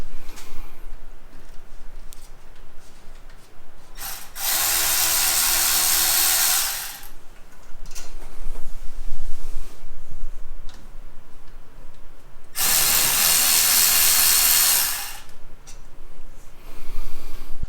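Power tool, a new impact-style driver, spins off the 14mm caliper bolts on a Kia Soul's front brakes, with two loud bursts of a few seconds each and a quieter workshop background between them.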